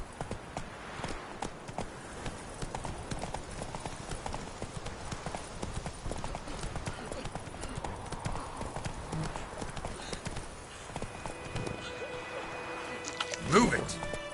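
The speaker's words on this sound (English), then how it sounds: "Run, Roach." Horse hooves clip-clopping at a steady rhythm in The Witcher 3 video game, fairly quiet under game music and speech, with a brief louder rise near the end.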